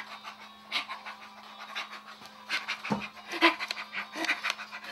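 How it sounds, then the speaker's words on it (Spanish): A dog pants rapidly and close by in a steady, breathy rhythm, with a faint low hum underneath and a brief whimper-like sound. "Es mi perrita."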